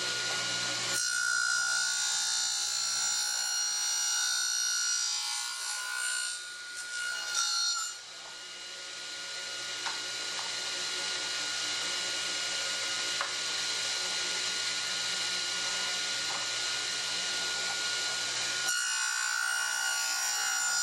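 A table saw with a tenoning jig cuts tenons on door rails for a vanity, giving a sustained high whine punctuated by the bite of several cuts, with no talk.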